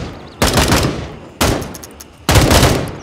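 Three loud, close bursts of automatic gunfire ring out in the Gray Zone Warfare video game, each rapid volley lasting about half a second and trailing off into a reverberant tail before the next.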